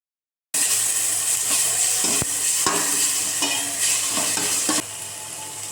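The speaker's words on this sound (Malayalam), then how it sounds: "എന്നിട്ട് നല്ലോണം ഒന്ന് ഇളക്കി കൊടുക്കുക." Onions with garlic-ginger paste sizzle in a pan for vegetable biriyani, with a steady frying hiss broken by repeated scraping stir strokes close by.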